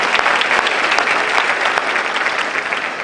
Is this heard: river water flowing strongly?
no